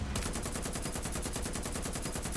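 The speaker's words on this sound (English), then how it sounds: "that little 8mm machine gun, even though I don't get much use out of it, is going to save my life" Rapid sustained burst of an 8mm machine gun in the War Thunder video game, dense evenly spaced shots rattling continuously at high volume.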